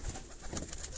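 A pigeon perched up on a rooftop coos in a low, soft burst, close by over a steady hiss of outdoor background.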